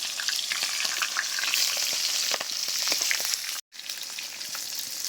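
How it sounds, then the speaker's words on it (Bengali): Fish heads, from a large fatty rupchanda fish, frying in plenty of hot oil, with a steady loud sizzle and scattered crackles and pops throughout; the sizzle cuts out very briefly, then resumes. "বেশি তেলে প্রথমে মাথাগুলো দিয়ে ভেজে নিচ্ছি।"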